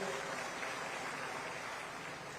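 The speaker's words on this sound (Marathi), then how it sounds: "त्यांचं एकदा जोरदार टाळ्या वाजवून स्वागत करूया" An audience at a farmers' gathering claps to welcome a guest, a dense, even patter of applause held at moderate loudness without a break.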